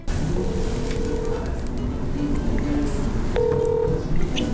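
A phone call-in line connects on a Korean legal talk broadcast: a long steady tone, a few short tones, then a brief higher dual-tone beep, all over a constant rumbling background hiss.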